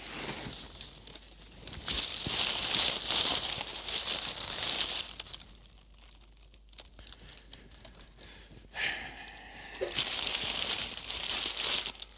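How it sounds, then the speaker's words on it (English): Packing paper crumpled and crinkled by hand in bursts of crisp rustling, with pauses between handfuls, close and fairly loud, set among unpacking a 386-era computer test bench. "Here's some packing paper."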